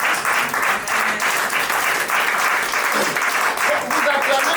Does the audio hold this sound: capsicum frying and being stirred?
no